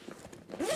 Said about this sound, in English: This zipper is actually meant to expand the bag out